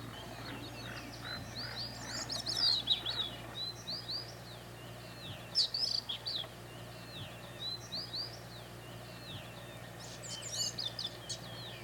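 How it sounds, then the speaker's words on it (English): A grey-cheeked thrush near a lodge in interior Alaska sings thin, high, rising phrases in three spaced bursts over a constant low hum and faint background croaking. "The grey-cheeked thrushes here were new for the trip."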